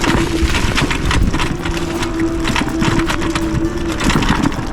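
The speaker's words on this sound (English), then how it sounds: "Look at this dual motor in action." A Yume X11 dual-motor electric bike climbing a hill off-road, its motors giving a steady whine beneath rattling and crunching from the trail, all close and continuous.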